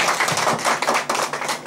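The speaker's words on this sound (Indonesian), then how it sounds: "tepuk tangan untuk kita semua" Audience members at a GNPK anti-corruption training evening in Guci clap together in a short, close burst of uneven hand claps. No one speaks over it.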